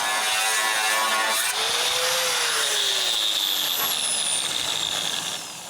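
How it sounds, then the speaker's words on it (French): A power tool cuts through trailer bolts, a loud continuous grinding whine that holds steady, with its pitch slowly sagging as the blade bites into the bolt, before easing off at the end. "on enlève le coffre et on coupe les boulons de l'autre côté"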